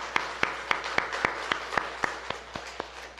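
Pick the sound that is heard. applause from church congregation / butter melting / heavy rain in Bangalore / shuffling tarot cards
applause from church congregation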